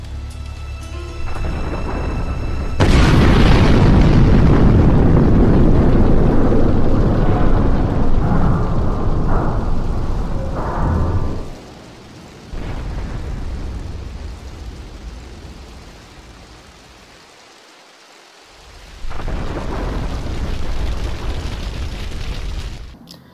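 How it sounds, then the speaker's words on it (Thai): A bridge is blown up in the video game GTA 3 Definitive Edition: a sudden loud explosion erupts and rumbles for several seconds, fades, then a second heavy roaring blast follows. "โคลอมเบียคาร์เทลยังได้วางระเบิดสะพานผลทำให้สะพานคาราฮานโดนระเบิด"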